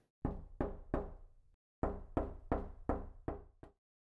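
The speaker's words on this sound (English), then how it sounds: "I import 4 different audio files of someone knocking on a wooden door." Knuckles rap on a wooden door in two groups of sharp, resonant knocks, three and then five, close and clear with short decays and no other sound.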